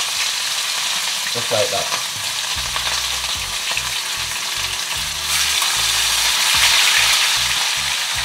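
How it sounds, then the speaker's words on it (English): Fish for Jamaican pineapple brown stew fish frying in a pan of hot oil, a steady loud sizzle and crackle throughout with bursts of speech over it. "So right now, ready for fry the fish."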